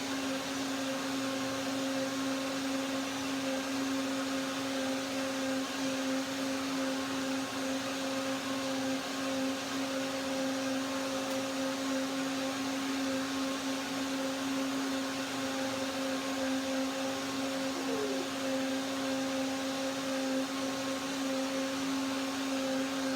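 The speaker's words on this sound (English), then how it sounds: "blend one more time to get the perfect texture, to break down the cashews" A blender runs continuously on celery pea soup with cashews, giving a steady, fairly loud motor whir with a constant hum that holds evenly throughout, with no talking.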